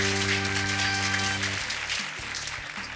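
Studio audience applause on a Brazilian TV game show, dense and steady clapping that runs the whole time, first under a sustained musical tone that cuts off partway, then continuing alone at moderate level.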